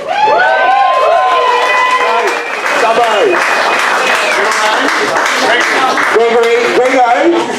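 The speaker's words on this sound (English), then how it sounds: "Yeah, round of applause for our president." A crowd at a sports club's presentation night gives a round of applause for the club president, with loud, steady clapping and scattered cheers and voices mixed in throughout.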